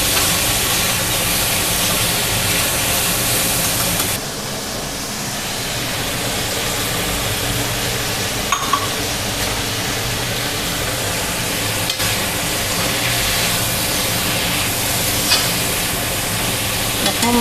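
Small potato pieces fry in a hot pan with a loud, continuous sizzle, stirred now and then with light scraping clicks, close and without talk.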